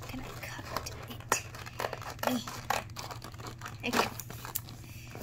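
Scissors snip and crinkle through plastic toy packaging while unboxing Season 3 Shopkins, several short close cuts and rustles at irregular intervals, with a brief spoken word.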